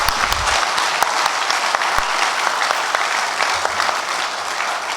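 An audience at an open architecture lecture claps after the talk, a dense, continuous round of applause from many hands throughout, close and fairly loud, with no voices over it.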